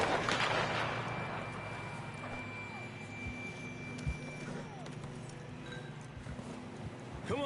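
Horse hooves clip-clopping in the Red Dead Redemption 2 video game, soft and fairly distant, under a steady outdoor ambience with occasional faint chirping tones.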